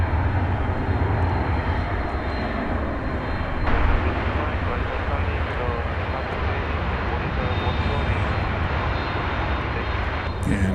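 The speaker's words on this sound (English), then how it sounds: "And here comes the first of our MD-11s tonight." An MD-11 airliner departs at night from Dallas Fort Worth airport as flight 765 bound for Louisville. Its jet engines give a loud, steady, broad roar that holds at an even level throughout, swelling slightly partway through.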